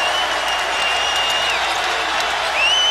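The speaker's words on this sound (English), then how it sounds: "Here comes the crowd" Basketball arena crowd at a college game between Virginia and Louisville, a loud continuous roar of cheering and applause with whistle-like shrieks, sustained for several seconds and swelling again near the end.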